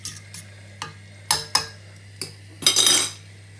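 Utensils stir food in a pan in a student kitchen, giving a run of separate scraping clinks and knocks, the last a longer scrape, close and fairly loud over a low steady hum.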